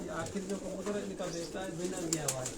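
Pigeons on a Karachi rooftop produce low, warbling coos that rise and fall in short phrases close to the listener, mixed with someone speaking over them.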